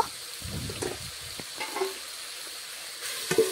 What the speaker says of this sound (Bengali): এইভাবে নাড়াচাড়া করে ভাজা হয়ে গেলেই আমি কিন্তু কিছুক্ষণের জন্য একটু ঢাকা দিয়ে দেব।